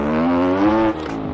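A Biz motorcycle fitted with a 160 engine in the game MX Bikes revs steadily and climbs in pitch, then dips briefly and holds, loud and close with no talk.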